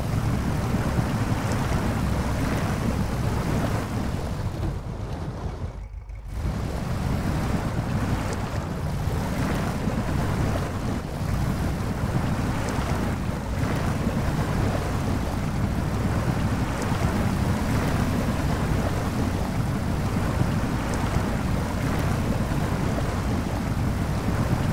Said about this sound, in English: Let's see if the Jeep can handle some deep water.